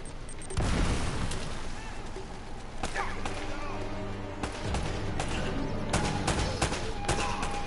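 Grenade explosions and gunfire in the video game Uncharted: repeated booming blasts and cracking shots over a constant rumble of battle, spread across the whole stretch.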